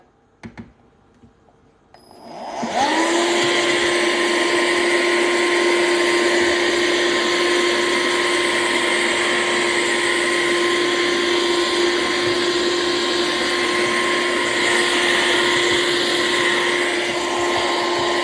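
A Kobold handheld vacuum cleaner switches on and runs with a loud, steady whine and whir that holds constant for many seconds at close range.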